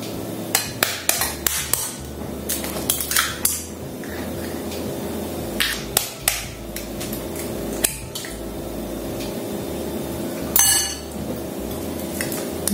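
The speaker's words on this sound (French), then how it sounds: "Je vais prendre 2 cuillères à soupe de sucre que je vais mélanger avec les œufs et la crème liquide et que je vais faire battre" Eggs, sugar and liquid cream are beaten together for a rhubarb tart filling, with a steady stream of close clinks and taps of utensil against a bowl and a louder clatter near the end.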